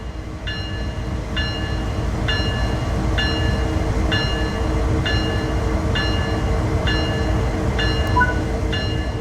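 A diesel locomotive in Train Sim World 3 rumbles steadily, with a regular bright clicking chime repeating about once a second throughout, loud and continuous with no voices.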